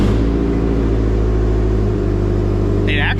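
A Subaru STI with a newly fitted big turbo, new exhaust and equal-length exhaust manifold idles loud and close with a steady, deep rumble, and a brief higher sound near the end.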